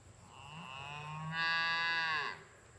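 A cow at a watering hole gives one drawn-out moo, rising and then falling, which carries clearly over a quiet outdoor background.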